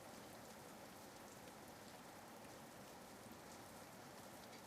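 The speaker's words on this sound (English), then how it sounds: "heavy rain and fog." Heavy rain pours steadily in a dense, even hiss with no breaks, loud and close throughout, nothing else audible above it.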